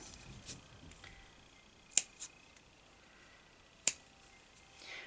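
Scissors snip small triangular notches into the curved seam allowance of fabric for a mini nativity chicken, giving two crisp, isolated cuts a couple of seconds apart in an otherwise quiet room.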